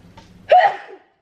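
A single sharp sneeze bursts out after a short breathy lead-in, close and loud, then stops.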